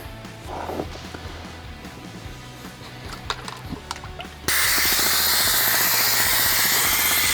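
A pneumatic brake bleeder working on dirt bike brakes: quiet clicks and workshop noise, then a sudden loud, steady hiss of compressed air that starts partway through and holds until the end.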